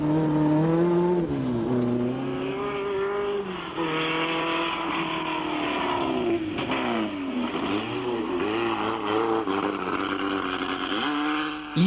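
A 1800 Group 4 Alpine A110 Berlinette rally car, driven by Bernard Darniche, revs hard and loud throughout, its engine note rising and falling through gear changes with no talk over it.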